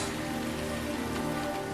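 Steady, dense rain falls in a romantic scene from the movie The Notebook, a continuous close hiss of drops striking surfaces with no break across the short stretch.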